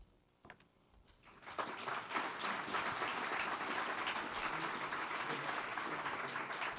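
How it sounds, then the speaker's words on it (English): A crowd breaks into a round of applause after a brief quiet start, building within a second or two into steady, full clapping that carries on to the end. "They needed a round of applause anyway"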